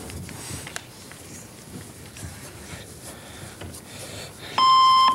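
Quiz bowl lockout buzzer at an academic bowl match, a steady electronic tone with overtones that cuts in loudly near the end over quiet room ambience.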